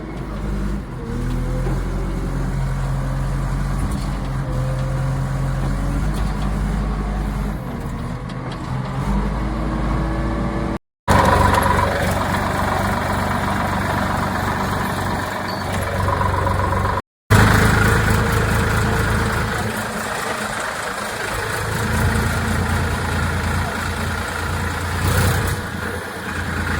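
Several tractors idle nearby at a fertilizer collection spot, their engines holding a steady low rumbling drone for a long stretch, broken by two abrupt cuts.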